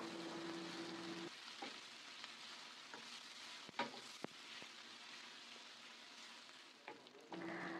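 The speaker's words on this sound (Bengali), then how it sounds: "যেই তেলে মাছটাকে ভেজে নিয়েছিলাম ওই তেলেই আমি পেঁয়াজ কুচিগুলোকে দিয়ে দিচ্ছি। আর এবারে কিছু সময়ের জন্য এটাকে আমি ভালোভাবে নেড়ে চেড়ে নিব।" Chopped onions frying in oil left over from frying fish, stirred now and then; a soft continuous sizzle with occasional spatula knocks and scrapes, fairly quiet and close, no talking.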